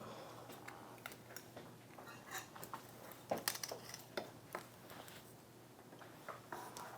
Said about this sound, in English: for the chopping it up, you can just go right across it with your knife